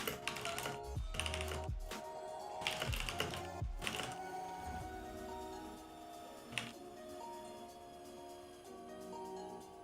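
Typing on a computer keyboard during a typing test, dense rapid key clatter in bursts with brief pauses and occasional louder strikes.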